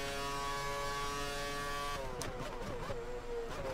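Formula 1 car engine in the F1 2013 racing video game, a high steady whine that drops and wavers as the car brakes and shifts through a chicane, loud and continuous with no talking.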